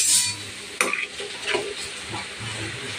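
Khichuri bubbling in a pot as it is stirred, a sharp scrape near the start followed by steady soft sizzling and bubbling with occasional spoon clinks.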